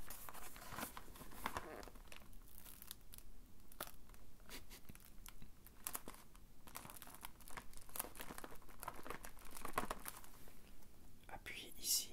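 A Delichoc chocolate biscuit wrapper crinkles and crackles close up as it is worked open, with a steady run of plastic crumpling and tearing while someone speaks softly throughout.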